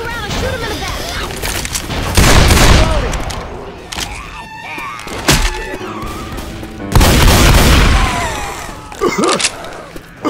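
Loud gunshots and bursts from Left 4 Dead 2 on the Death Row campaign, coming in heavy clusters with booms and thuds while characters shout over the shooting.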